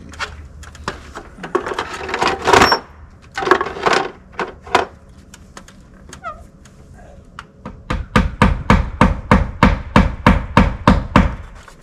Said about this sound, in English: we'll just start nailing this guy up.